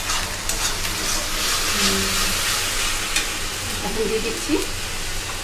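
Spices with ginger and garlic fry in a pan for a fish and potato curry, a steady close sizzle broken by scraping stirs, with a brief spoken remark over it.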